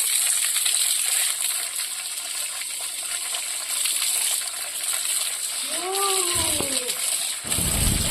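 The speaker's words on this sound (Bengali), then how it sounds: "এবার এগুলোকে আমি ভালো করে ধুয়ে নিলাম" Drumstick leaves are washed in water with continuous close splashing, sloshing and rattling, and a brief voice cuts in near the end.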